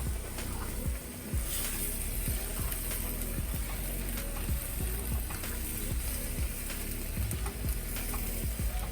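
Shrimp and vegetable stir fry noodles cooking down in a pan, a continuous close hiss of sizzling moisture with occasional stirring clicks and scrapes, no talking.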